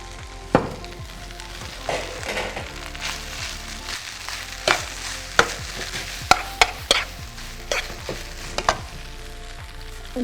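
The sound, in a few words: boiled rice added to pan and stir-fried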